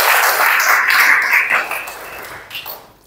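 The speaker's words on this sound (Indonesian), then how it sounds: "Kasih tepuk tangan." A church congregation claps during a sermon, a loud burst of many hands that peaks early then tapers off over about three seconds, heard alone without speech.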